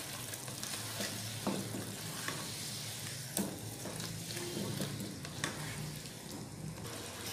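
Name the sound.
stirring chicken with spices in a pan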